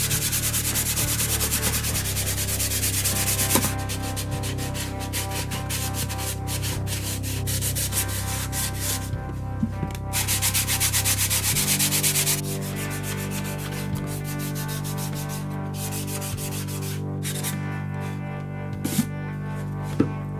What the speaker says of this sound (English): I'm going to sand it with 220.